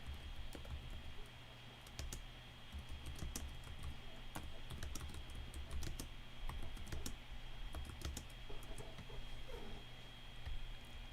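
Quiet typing on a computer keyboard, a continuous stream of light irregular key clicks over a low steady background hum.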